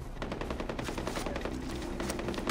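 Enemy gunfire in the video game Far Cry 4, rapid automatic bursts crackling in quick succession throughout, fairly faint and with no talking over it.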